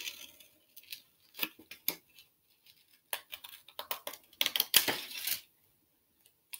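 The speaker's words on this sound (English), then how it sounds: "So I'm going to cut his ears out." Scissors snip through folded paper while cutting out ears for an origami bookmark, in short irregular bursts of crisp crunching clicks separated by brief silences, close to the microphone.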